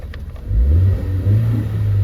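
A Ford Focus ST-2 with the 2.0T EcoBoost petrol engine revs briefly and loudly, a deep throaty surge that holds for over a second with no talking.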